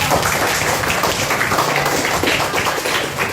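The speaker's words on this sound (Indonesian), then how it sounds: "Tepuk tangan untuk semua kelompok" A class of students in a school lesson applauds all the student groups. The clapping is dense, loud and steady throughout, filling the room with a continuous wash.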